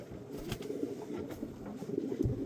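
Old pigeons cooing in a loft, a steady, close chorus of low overlapping coos with no talk.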